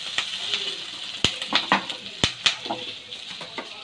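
Onions and green chillies fry in a little oil for a home-made Kerala chicken fry, a faint sizzle under sharp clinks and scrapes of a spoon stirring the pan.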